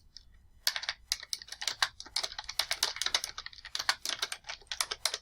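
Steady keystrokes on a computer keyboard while a title is typed, quick irregular clicks running close and clear for about five seconds after a short quiet start, with no talking.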